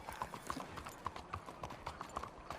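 Steady, rhythmic clip-clop of horse hooves at a walking pace in Red Dead Redemption 2, fairly faint against a low background.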